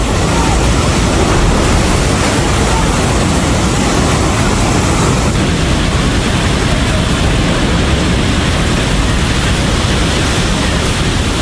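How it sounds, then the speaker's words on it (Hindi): Flash flood water in Nepal surges past in a loud, continuous roaring rush, dense and unbroken throughout, with wind buffeting the microphone. "पानी का बहाव देखिए जरा"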